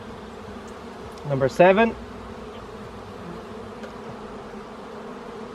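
Honey bees hum around an open beehive during an inspection, a continuous low buzzing drone throughout with a brief spoken phrase on top.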